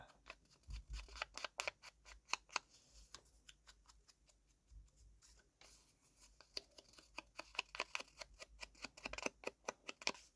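Scissors snip a thin white strip in a craft project, a rapid series of small crisp cuts in irregular bursts with brief pauses, close and quiet with no talking.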